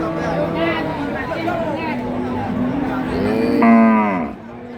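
A cow at a busy village cattle market gives several loud, drawn-out moos close by, with the last call rising strongest before cutting off, over a steady hum of crowd chatter.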